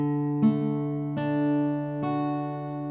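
Guitar chord strummed from the 4th string, played three times in a slow, even series of clean, ringing strums, close and fairly quiet.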